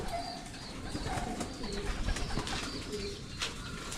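Pigeons in a loft housing young birds of a flyer section, soft repeated cooing close by with a few light scuffles and wing movements, and no talk.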